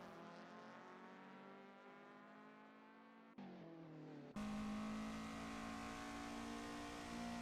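A simulated Toyota AE86 race car revs loudly in a racing video game, its engine note steady and high, dipping briefly before surging back harder as it drifts out of a corner and accelerates.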